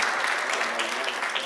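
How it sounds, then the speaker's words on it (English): An audience gives another round of applause at a film event, a dense wash of many hands clapping steadily and fairly loud throughout. "Can we give him another round of applause one more time?"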